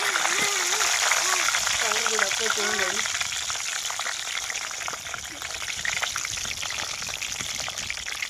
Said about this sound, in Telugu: సరే నూనెలో అయితే ఈ విధంగా వేసేస్తున్నాము